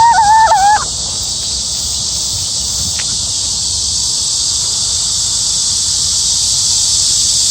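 Cicadas drone loudly and continuously on a late-summer forest path, a dense, unbroken buzz that fills the whole clip, with a brief bird call near the start and no talking.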